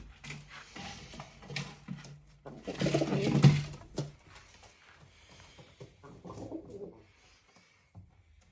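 Pigeons coo in low, soft murmurs, swelling louder near the middle, with light rustling and fluttering around them.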